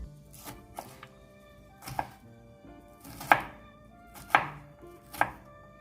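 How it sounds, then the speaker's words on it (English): A knife chops sweet peppers on a cutting board, about six sharp, close knocks at an uneven, unhurried pace, with a low steady hum beneath. "we're gonna cut these sweet pepper a little smaller"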